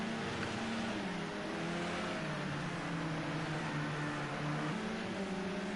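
Touring car race cars in a racing video game drone steadily, their engine tones shifting up and down through gear changes in a continuous hum at moderate level.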